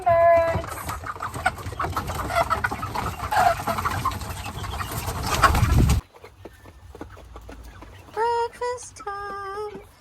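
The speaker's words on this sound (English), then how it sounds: "Birds are eating breakfast." Backyard birds feeding in the morning, with pigeon- or dove-like coos and clucking calls over a busy, rustling outdoor bed; the first part is louder and fuller, then a quieter stretch with a few clear bird calls near the end.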